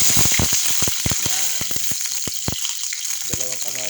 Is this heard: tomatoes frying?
yes